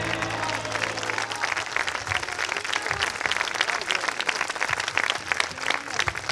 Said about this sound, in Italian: Prenditi l'applauso